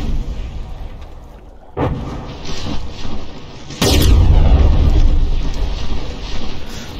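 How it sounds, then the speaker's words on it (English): In a naval battleship game, shells crash and splash into the water. Deep booming impacts land in a burst, one sharp hit and then a heavy sustained roar, loud with no talking. "just look at all those shells dunking into the water in front of the Demonitzer"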